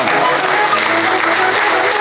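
Loud, dense audience applause fills a foundation-day celebration hall in Mangaluru, steady and unbroken from start to finish.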